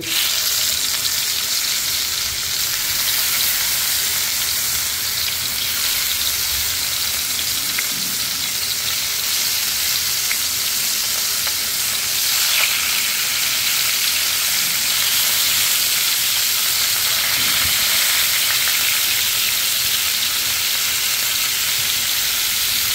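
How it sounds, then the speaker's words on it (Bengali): Tilapia fish frying in hot oil in a frying pan, a loud, constant dense sizzle and crackle filling the whole stretch without pause. "তেল গরম হয়ে গিয়েছে, এখন আমি মাছগুলো দিয়ে দিব ভাজার জন্য"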